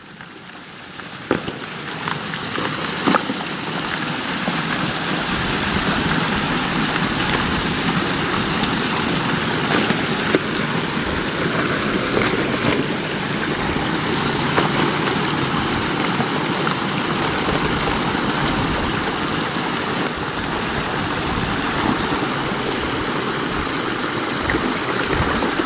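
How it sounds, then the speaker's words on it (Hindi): The Banas river in Rajasthan rushes steadily as its water pours into a pit dug in the sand, a loud, continuous broadband roar with no pauses. "देखना अब इसका स्पीड देखना पानी का।"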